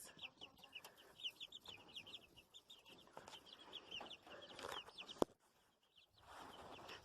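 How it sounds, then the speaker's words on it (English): Backyard chickens, young birds growing up, cluck in a steady busy chorus of soft, close calls, with a sharp knock partway through and a brief lull before the clucking resumes. "These chicks are getting so beautiful."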